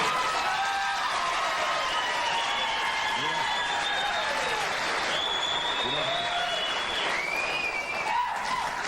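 Studio audience applauding at a late-night television comedy show, a dense, sustained roar of clapping with some cheering and whoops mixed in, loud and continuous throughout.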